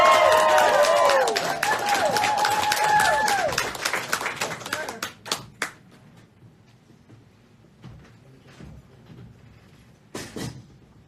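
A studio audience at the AT&T Sound Studios applauds a singer with brisk clapping and whistles and cheers mixed in. The applause dies away after about five seconds, leaving a few stray claps and voices.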